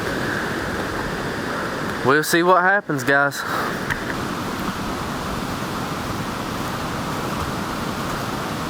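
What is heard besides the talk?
high flooding creek water rushing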